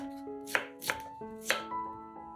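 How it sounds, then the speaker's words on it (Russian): Knife shredding white cabbage on a board: three crisp, close chopping strikes at uneven intervals over soft background music, no talk. "Берем капусту и шинкуем ее ножом."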